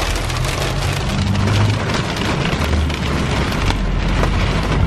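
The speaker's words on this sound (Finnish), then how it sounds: "Nää on rakeita, nää ei oo enää vettä." Hail mixed with rain pelting a hard surface outside a repair garage, a dense continuous clatter and hiss at steady loudness with low rumbling underneath, no voices.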